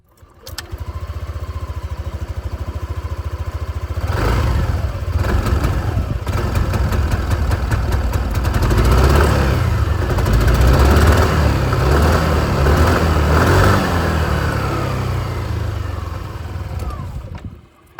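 Close exhaust of a 2025 Yamaha Aerox 155 Version S scooter, starting at a steady idle putter, then rising into longer sustained revving with rough engine roar before dropping away at the end.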